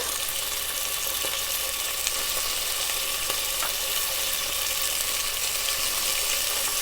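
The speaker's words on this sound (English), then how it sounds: "Now I'm adding the rest of the beef stew meat." Beef stew meat searing in a hot pan, a loud, continuous close-up hiss and sizzle with faint crackles and occasional light utensil taps, no speech.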